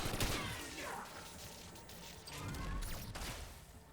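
Gunfire rings out while shooting a zombie in the Black Ops 7 Zombies video game, with dense rumbling, crackling blasts and debris-like noise, fairly faint and continuous throughout.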